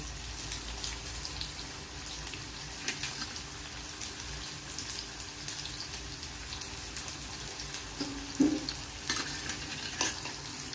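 Whole-spice masala of cumin, cloves, cinnamon, black pepper, cardamom and stone flower frying in a pan for chicken dum biryani, a quiet continuous sizzle with occasional stirring scrapes and a louder clink near the end.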